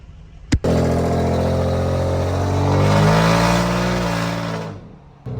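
A Ford F150 with catback straight pipes, idling at a light, then roars into a loud, sustained full-throttle pull, its engine note climbing and holding for several seconds before easing off.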